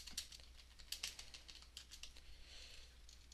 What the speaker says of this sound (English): you're gonna type in your text